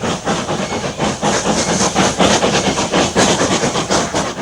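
A steam freight train climbs briskly, headed by a 9F locomotive with four banking engines pushing; a loud, continuous rolling roar with rhythmic chuffing and wheel clatter sits close by, with no talk.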